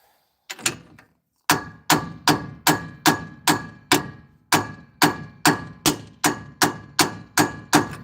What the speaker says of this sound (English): the sound of the hammer and everything will be different, and it'll just kind of stop